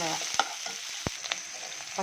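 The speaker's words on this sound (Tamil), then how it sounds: "பூண்டு, சின்ன வெங்காயம், பெரிய வெங்காயம், கருவேப்பிலை இதெல்லாம் போட்டு தாளிக்கிறோம்" Garlic, shallots, onions, green chillies and curry leaves sizzle steadily in hot oil, with a spoon scraping and stirring the pan a few times.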